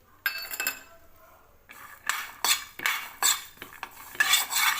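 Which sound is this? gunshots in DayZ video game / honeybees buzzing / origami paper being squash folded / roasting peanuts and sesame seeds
roasting peanuts and sesame seeds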